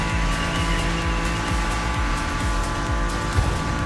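A BMW M4 racing in a video game, its engine holding a steady, loud drone with quick rhythmic pulses of shifting and tire noise, close up and alone without talk.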